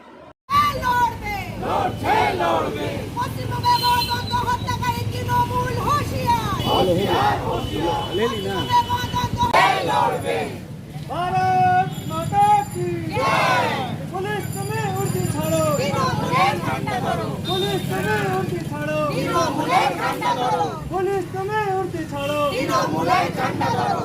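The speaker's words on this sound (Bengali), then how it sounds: "বিজেপি সদস্য মিস্টার আফতাব আলম এবং মোমেন্দ্র শাহ, সঙ্গীতা নোনিয়া এবং অন্যরা পুলিশের বিরুদ্ধে স্লোগান দিচ্ছিলেন।" A large crowd of BJP members in Asansol, West Bengal chants slogans against police, loud and close, with shouted voices rising and falling in rhythmic waves that continue without a break.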